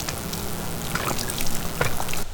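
Water tips out of a folding fire pit and splashes onto gravel in a steady, close trickling pour with a few brighter spatters, ending abruptly.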